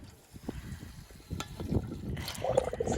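A cheap hand pump on an off-grid well is worked with effort, giving irregular squeaks, knocks and splashing water that grow busier and louder toward the end, close by.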